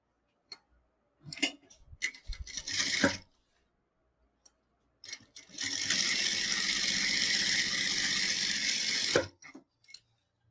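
A sewing machine runs a safety stitch along fabric, starting with short stop-start bursts and then settling into a steady, close whirring run of several seconds before stopping, with no talk.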